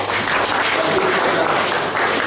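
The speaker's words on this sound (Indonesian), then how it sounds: "Beri tepuk tangan." A congregation at a Baptist church Sunday service applauds, dense, loud clapping that fills the room and holds steady throughout.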